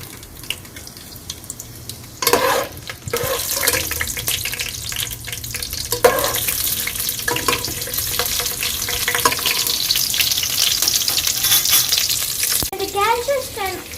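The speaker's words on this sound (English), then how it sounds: "Be careful with the hot oil. Now I'm going to add the chilies." Chilies dropped into hot oil while cooking chicken biryani, a loud, steady frying sizzle with clattering stirring and a few sharp knocks, plus a brief bit of water running near the end.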